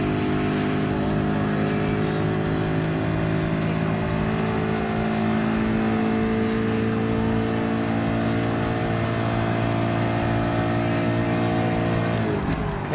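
Ford GT LM Spec II race car engine in Gran Turismo Sport, a loud steady roar with sustained harmonic drone, shifting pitch near the end as the car accelerates, with faint tire squeal and no talk.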